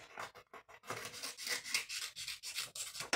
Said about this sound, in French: Je prends un ciseau et je coupe à la taille voulue.